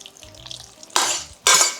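Flax seed egg being stirred into dry flour batter in a bowl, giving two loud, brief scraping bursts after a quiet stretch of faint kitchen noise.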